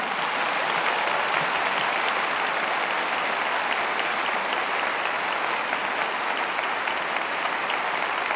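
A large church audience at a Bible study gathering in Bogotá claps in sustained, even applause. The dense crowd clapping holds at a constant level for over eight seconds with no voices rising above it.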